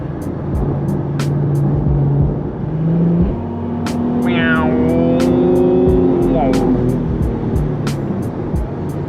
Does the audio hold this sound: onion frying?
no